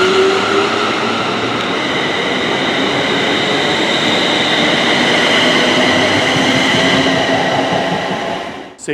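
A train rumbles steadily along the rails approaching Paisley near Glasgow, a loud continuous clatter and hum that fades slightly at the end.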